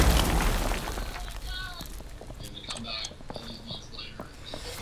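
A deep explosion in the video game Rainbow Six Siege booms at the start and rumbles away, followed by quiet whispered voices and small clicks.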